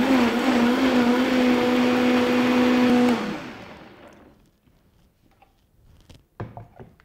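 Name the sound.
blender mixing a smoothie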